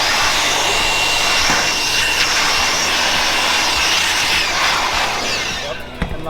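Compressed air blasts debris off a drilled-out rivet hole while installing dry pan roof flashings, a loud, continuous hiss lasting the whole clip with an abrupt end, and quiet talk underneath.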